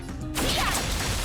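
A mask shattering in the video game Honkai Star Rail: a sudden loud crash after a quiet lead-in, followed by a sustained bright, glassy swirl of debris that stays loud to the end.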